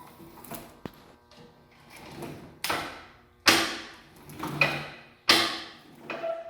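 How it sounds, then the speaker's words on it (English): A Rosback 3-knife book trimmer with a brake motor and variable frequency drive inches in short bursts, giving a series of mechanical clunks and whirring cycles about a second apart, each stopping sharply. "Whenever you let go of the inch button, it stops the machine right precisely where you want it stopped."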